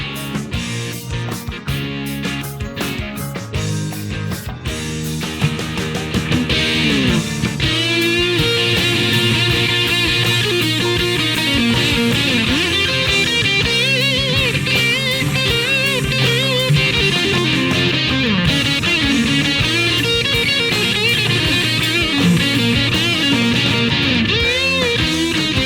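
Electric guitar playing a song, a dense, continuous rock part with riffs and bends running loud and steady throughout, no talking.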